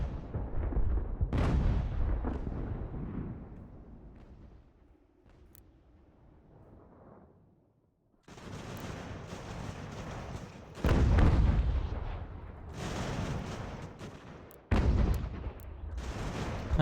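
Cannon fire and musket volleys from a Revolutionary War battle in Ultimate General: American Revolution roll on in heavy, booming bursts, with loud blasts that decay, a brief lull, then renewed thunderous firing.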